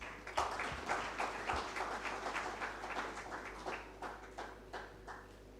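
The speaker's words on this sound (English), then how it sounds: "Can we clap for Prudential?" Conference audience at an insurance brokers' gathering in Uganda applauding a sponsor, with a steady patter of many hands clapping at moderate distance that keeps going throughout without a break.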